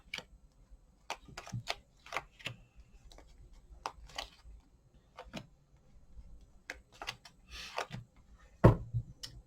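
A tarot deck is cut and four cards are drawn: scattered sharp card slaps and flicks at irregular intervals, close and fairly quiet, ending in a louder thump, with no talking.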